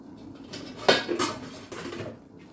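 A metal lid is set onto a pot of simmering Kenyan greens (kunde, mrenda, terere), a couple of close clanks and rattles of metal on metal over a soft background.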